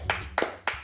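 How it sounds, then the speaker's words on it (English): Three sharp hand claps spaced evenly about a third of a second apart, close and crisp with short decay, with no talking. "That's a clap."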